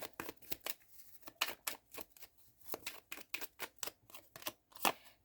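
Oracle cards are handled and pulled in a quick series of close, papery flicks and slaps, steady and fairly quiet, with no talking.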